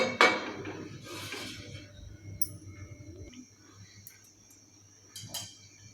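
A metal lid clanks onto a pot of simmering stuffed ridge gourd curry, a bright clink up close, followed by a quieter low-flame bubbling and a few light metallic taps.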